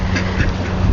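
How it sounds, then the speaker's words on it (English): A crowd of ducks in a park quacks loudly and close by, several overlapping calls packed into a dense, busy second. "there's so many ducks right now."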